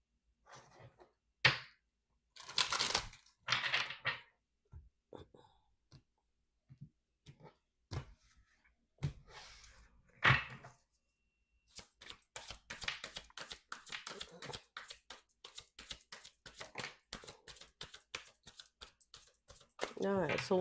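Bursts of tarot cards riffling and slapping together, a few separate shuffles followed by a long rapid flutter of shuffling, close and crisp, with quiet talk between.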